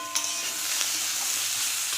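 Chopped tomato with chili powder and a cumin, ginger and coriander paste sautés in a pan with shrimp, giving a dense, continuous close sizzle with faint stirring underneath.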